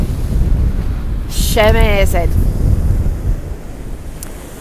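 Strong wind buffets the microphone over a steady roar of big waves breaking at the seaside at high tide, loud and continuous, with a person briefly exclaiming in a sing-song voice midway.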